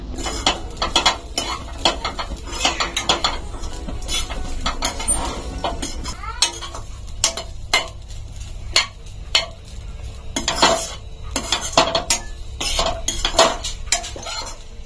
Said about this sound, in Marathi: खोबरा मी 1 वाटी घेतला आहे, तो आता आपण मंद आचेवरती छान भाजून घेऊया लालसर होईपर्यंत